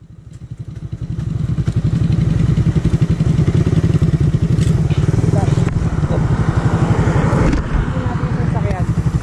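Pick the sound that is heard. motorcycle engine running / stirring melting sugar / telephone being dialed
motorcycle engine running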